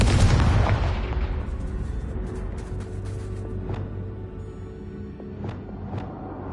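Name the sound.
explosion from the Confringo blasting spell in a Harry Potter video game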